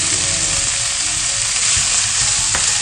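Minced meat sizzles steadily in a pan with softened tomatoes as green chillies go in, a loud continuous frying hiss with a few soft stirring knocks and no talking.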